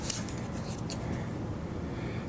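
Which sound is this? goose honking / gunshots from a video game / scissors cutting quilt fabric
scissors cutting quilt fabric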